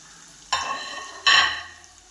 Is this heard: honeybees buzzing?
no